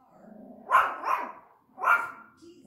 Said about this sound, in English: It's our TV watchdog.